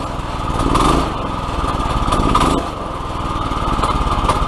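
A freshly mounted Predator 212cc engine on an ATV quad runs at its first startup, a loud, close, rapid put-put idle that swells briefly with small throttle blips.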